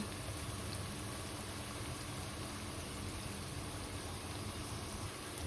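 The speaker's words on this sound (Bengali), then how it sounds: "পেঁয়াজটাকে ভালো করে একটু ভেজে নেব ব্রাউন কালার করে" Onions frying in oil until brown: a faint, even, steady sizzle with no talk.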